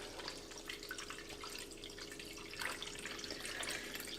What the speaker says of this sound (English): I've got water here, and I'm going to just put enough in